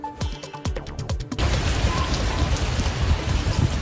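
Steady rain pours down in Delhi, a dense continuous hiss that swells in abruptly after a brief stretch of scattered sharp drops and clicks.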